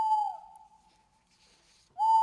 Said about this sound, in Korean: 기분 나쁜 새소리만 들려왔죠.